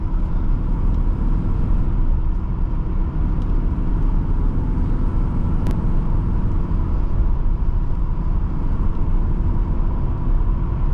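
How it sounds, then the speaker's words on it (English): A 1985 Nissan 300ZX cruises in fifth gear, giving a loud, steady, low engine drone and road rumble that runs unbroken throughout. "I'm just gonna put it in 5th gear, and we're just gonna kind of cruise."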